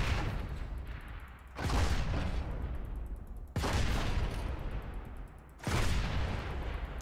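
Turret fire in Planetside 2 comes in three heavy bursts roughly two seconds apart, each a booming volley with a dense rattling tail, loud and close with no talking.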